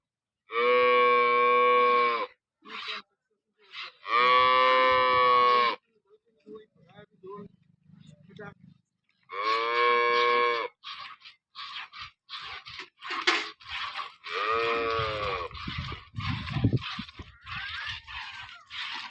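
Dairy cows moo loudly several times, long drawn-out lows up close, with people talking in between.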